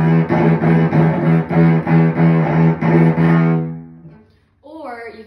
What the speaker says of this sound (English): sometimes you will put too much pressure in your bow, which will mean the sound will be very crunchy or muddy